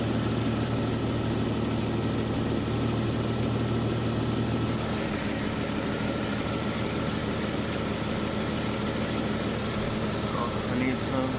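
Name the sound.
Jeep ZJ engine idling in neutral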